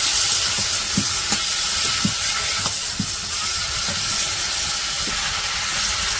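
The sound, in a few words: snakehead fish being cooked down (kosha) in a pan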